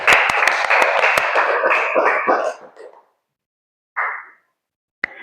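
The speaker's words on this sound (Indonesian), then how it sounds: "Tepuk tangan untuk semua." A classroom of children claps hands together in a loud burst of quick sharp claps that fades out after a few seconds, followed by a brief voice and a single later clap.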